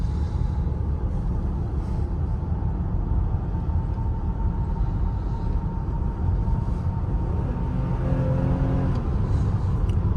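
Cabin sound of a 2024 Infiniti QX60 Luxe under way: a steady low engine and road drone throughout, with a rising tonal engine note emerging near the end as the SUV accelerates.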